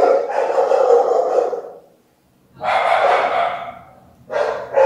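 Dogs bark in the Sonic.exe remake video game, two loud bursts of barking separated by a short silence, with a third burst starting at the end.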